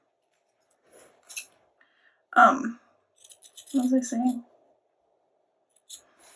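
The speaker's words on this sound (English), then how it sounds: "Should be using fabric scissors," Scissors snip paper for a journal cover in a few short, crisp cuts spaced across a quiet room, with a person speaking briefly between the snips.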